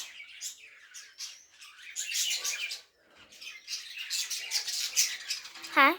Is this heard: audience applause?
no